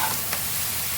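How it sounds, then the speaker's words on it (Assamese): Ingredients with turmeric frying in a pan for the Assamese dish khaar, giving a steady, close hiss of sizzling oil with no break. "এতিয়া এইখিনি বস্তু মই অকণমান ভাজি ল'ম"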